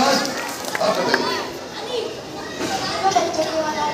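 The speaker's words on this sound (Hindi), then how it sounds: "बच्चों की आवाज़ आ रही है" Children play and chatter together in a school setting during a festive event. A continuous, bustling crowd of young voices shouts and talks at moderate distance, with occasional footsteps.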